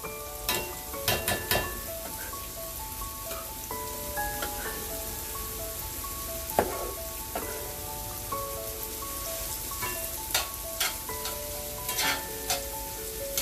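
Onions and sausage cooking together in a pot for shrimp gumbo, with a steady soft sizzle broken by clinking and scraping spoon stirs against the pot, close and moderately loud with no talking.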